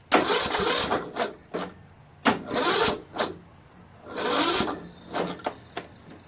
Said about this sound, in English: I'm just going to crank it and see what happens.